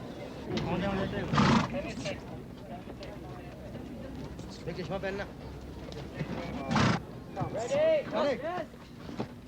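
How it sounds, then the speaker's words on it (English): Arab horses racing at a royal event in the Gulf, with loud whinnies and neighs rising sharply around the second and seventh seconds over steady crowd noise and overlapping talk. "The Arab horses are short-backed, thin-legged, very fast and very beautiful."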